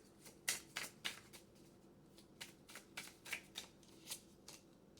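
Tarot cards being shuffled up close, a quiet run of crisp riffling bursts in uneven clusters with short pauses between, no voices.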